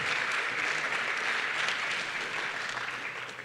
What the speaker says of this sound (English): we should just applaud him again